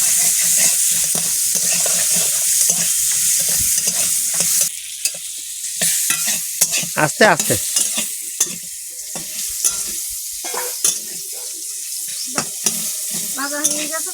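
Tomatoes sizzle and fry in a pan with a little salt, with steady frying hiss throughout and repeated scraping, clattering stirs growing busier in the second half; a voice speaks briefly.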